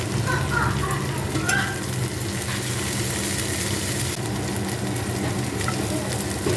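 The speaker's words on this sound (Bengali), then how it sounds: "ক্যাপসিকামটা ভাজা ভাজা করে নেব।" Capsicum stir-fried in a pan for mixed chicken fried rice, giving a steady, fairly loud sizzle with scraping stir strokes throughout and no talk.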